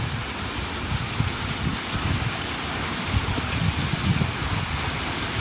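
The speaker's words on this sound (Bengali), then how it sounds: "কোথাও কেউ নেই, শুধু চারিদিকে বৃষ্টি আর বৃষ্টি।" Heavy rain pours down steadily in a deserted place, a dense, even hiss with a low rumbling wash underneath, loud and continuous with no voices.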